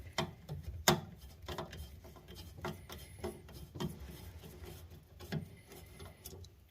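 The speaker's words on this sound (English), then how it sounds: "So 1/4 inch nut driver, we'll pull these 2 screws out." A 1/4 inch nut driver backs out two screws during a Stern Godzilla Premium pinball machine installation, giving quiet, close ratcheting clicks and small metallic taps in irregular bursts, with no talking.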